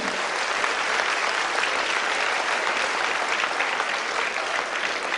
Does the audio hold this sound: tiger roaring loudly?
no